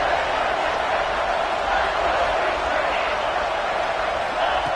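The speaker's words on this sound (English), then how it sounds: "here comes the noise. This crowd is trying to inspire this defense to make a big red zone stop" Stadium crowd roaring continuously at a football game during a red-zone defensive stand, a loud sustained wash of noise with no break.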